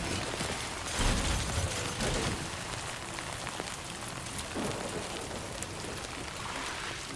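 Steady rain falling in the video game Death Stranding 2: On the Beach, a dense continuous patter of drops on surfaces at moderate, even loudness, with no talking.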